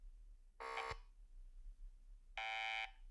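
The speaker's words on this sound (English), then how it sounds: "That's not a phone, that's a buzzer, right?" A quiz buzzer sounds twice, each a harsh electronic tone lasting about a third of a second, separated by a quiet gap; the two tones differ in pitch and no one speaks.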